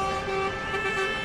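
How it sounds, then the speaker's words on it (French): Car horns sounded by motorists on a motorway in support of an oyster farmers' protest near Bordeaux, a sustained tonal honking that swells and overlaps over steady traffic noise. "Sous les klaxons des automobilistes qui soutiennent l'action"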